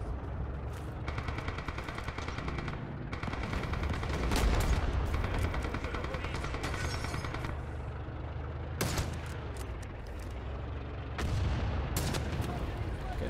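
Gunfire and a grenade blast in the Rising Storm 2: Vietnam Winter War mod, with repeated sharp shots and bursts over a constant low battlefield rumble, loud and close, while someone talks in French over the fighting.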